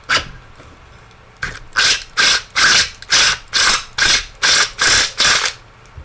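A run of about ten evenly spaced, loud rasping bursts, each lasting a fraction of a second, like a hand drill biting into a plastic box mod enclosure after a quieter start.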